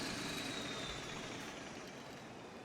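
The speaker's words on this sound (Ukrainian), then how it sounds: "давайте заглушимо двигун, напевно, щоб він солярку не палив" A diesel engine idles quietly with a low, steady rumble, and the sound gradually fades toward the end.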